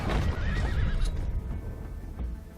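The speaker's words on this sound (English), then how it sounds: "I'd never liked shooting horses in this game." A horse in Red Dead Redemption 2 gives a loud, close whinny with clip-clopping hooves and rumbling movement underneath, brief and without speech.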